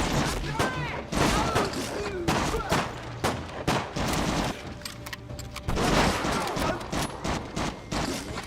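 Rapid bursts of machine gun fire in Medal of Honor Rising Sun, Hard difficulty, crackle close and loud in uneven volleys with heavy booms mixed in, while battlefield noise continues around them.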